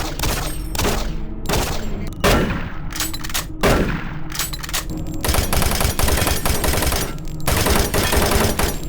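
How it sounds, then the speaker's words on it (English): Rapid gunfire from the video game Doom 3, a dense, loud, continuous run of sharp shots and bursts that repeats steadily throughout with no pauses or talking. "let's talk about the guns. More specifically, the sound effects for them."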